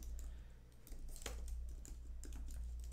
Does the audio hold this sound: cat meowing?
no